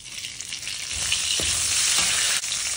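Mint leaves fry in hot oil and are stirred in a pan for Tamil coriander rice, giving a steady close sizzle with a few soft scraping strokes and no talking.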